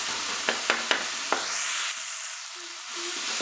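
Tomatoes sautéing in a pan for appalam kuzhambu, with a few sharp utensil clicks over a steady sizzle that drops away midway before resuming faintly.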